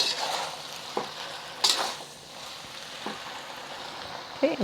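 Beef and rice noodles stir-fried with gravy in a pan, with a soft sizzle and scraping, tossing sounds from a utensil in a few short bursts, close by and without speech.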